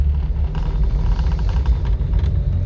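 A 1956 Ford Anglia 100E shifts into second gear on a test drive, its small engine giving a steady, loud, close rumble from inside the car with no one speaking.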